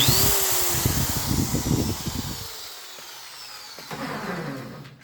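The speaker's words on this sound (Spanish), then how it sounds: "al accionar nuestro taladro, nuestro rotomartillo" A rotary hammer drill whines loudly at high pitch, then winds down and fades, followed by a brief clatter and a short second burst.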